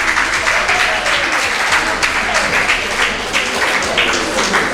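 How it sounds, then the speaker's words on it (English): Steady audience applause for King and Queens Academy students at a Nigerian school event, dense and moderately loud with individual claps pulsing through the continuous wash, no talking over it. "King and Queens Academy, please put your hands together for them"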